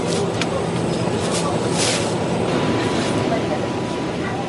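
A ride aboard a train: a steady, loud, continuous rumble of the carriage in motion fills the whole stretch, with a few faint higher rattles and no clear breaks.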